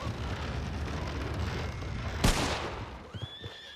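A horse whinnies amid a dense, noisy Red Dead Redemption 2 soundscape with a sharp bang in the middle and a few thuds near the end.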